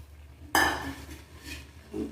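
A lid clatters onto a cooking pot during a village-style curry with green chillies, one sharp metallic clink followed by a brief ringing and a few softer knocks, close and clear.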